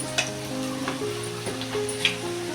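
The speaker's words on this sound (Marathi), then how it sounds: "कांदा लसूण मिरची चांगली शिजवून घ्यायची" Onion, garlic and green chili sizzling in a pan for a drumstick-leaf vegetable dish, with a steady close fry, occasional stirring scrapes and a few sharp spatula clicks, no talking.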